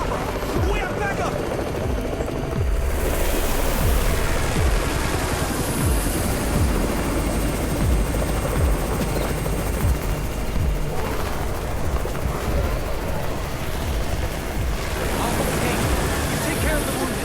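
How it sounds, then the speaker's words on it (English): A helicopter arrives in a zombie video game, its steady thudding rotor wash and engine roar filling the scene continuously under voices and other game noise. "It's the Raven's chopper! We have backup!"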